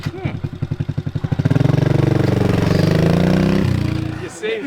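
A crashed motorcycle still running, its engine chugging in rapid loud pulses that rise into a sustained revving roar close by, then settle back, with a voice briefly over it.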